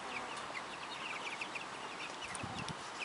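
Young Cornish cross chickens in an emergency pen make soft, scattered clucks and peeps over a steady background hiss, faint and somewhat distant, with a few low thuds near the end.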